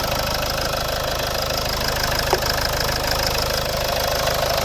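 A 2.2-litre diesel engine of a 2010 Mitsubishi Outlander XL with automatic transmission idles steadily up close, an even, continuous hum and clatter with no change in pace.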